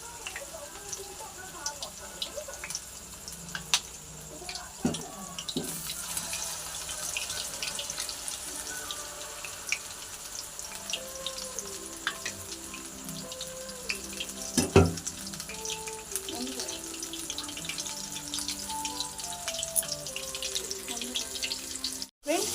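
Paneer masala fries in a pan over a medium flame, a faint, steady bubbling sizzle with scattered small pops and a clink or two, while a person talks over it at times.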